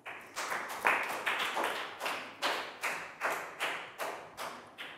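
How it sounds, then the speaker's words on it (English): Classroom applause, a run of about a dozen evenly spaced, loud claps with no talking. "And a big high five and round of applause for Net."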